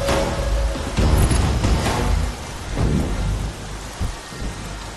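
Heavy rain pouring down during a thunderstorm, with loud close thunder rolling and booming over the steady downpour, no voices.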